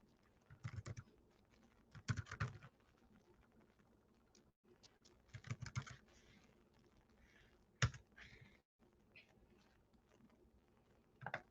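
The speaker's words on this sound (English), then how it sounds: "I'm just going to type that in again" Quiet computer keyboard typing in short scattered bursts of clicks separated by pauses, close-miked but soft, with a few sharper isolated taps and no voices.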